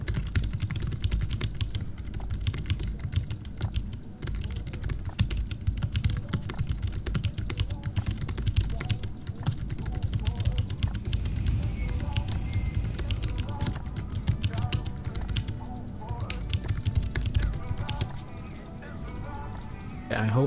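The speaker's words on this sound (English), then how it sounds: "I'm going to show you guys how the keyboard sounds when you're typing on it" Steady, rapid typing on a Logitech MX Keys keyboard fills the whole stretch, a dense run of soft close key clicks with a few short pauses and no talk.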